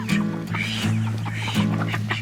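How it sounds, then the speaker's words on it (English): Ducks come out of a goat barn with a close, steady run of nasal quacking and chattering calls, with nobody talking. "Little ducks following behind."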